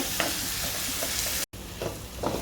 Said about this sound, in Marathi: हे बघा अशा पद्धतीने हे चांगलं हलवून घ्यायचं आहे आणि सतत त्याला हलवत राहायचं आहे